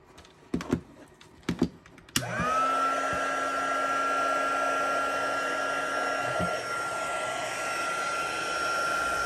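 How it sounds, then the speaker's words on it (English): A heat gun used for heat embossing on a handmade card switches on after a few sharp clicks, then runs with a loud, steady fan whine and blowing hiss, close by and continuous. "It takes a few seconds for the heat gun to warm up also."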